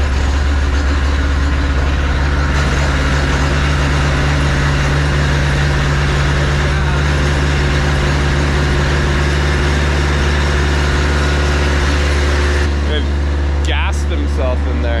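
Ice resurfacing machine at an outdoor ice rink in Whistler, its engine idling with a steady low droning hum, close and continuous, while people talk nearby.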